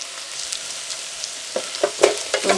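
Whole cumin seeds and dry crushed thyme leaves fry in a pan, a faint steady sizzle followed by a few quick stirring scrapes near the end, close and without talk.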